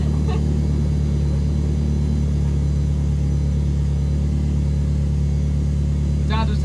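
A 431bhp Ford Fiesta's engine drones loudly and steadily from inside the car, a heavy constant rumble with brief rising squeals near the start and end, holding throughout without pause.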